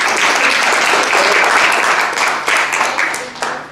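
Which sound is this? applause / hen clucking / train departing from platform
applause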